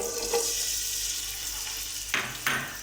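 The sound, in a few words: onions frying in hot ghee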